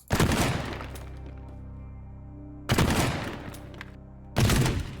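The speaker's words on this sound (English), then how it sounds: "grab the shotgun, and start destroying this wall" Shotgun blasting a wall in the game Teardown: three loud, close booming shots several seconds apart, each with a crunching burst of breaking debris followed by a lingering low rumble.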